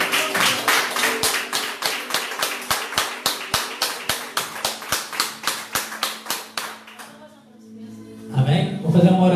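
A church congregation claps in a steady, rhythmic beat of about two to three claps per second for several seconds, then the clapping stops and a voice speaks at the end.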